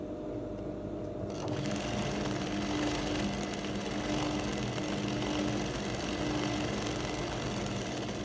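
A sewing machine runs steadily, stitching the seams of a palazzo jumpsuit twice over, its fast continuous motor hum and needle clatter close and loud throughout.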